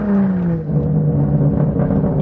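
A BMW M car drifting sideways on a quiet private cul-de-sac, its engine droning loudly and steadily, the pitch dipping slightly, close up with no talking.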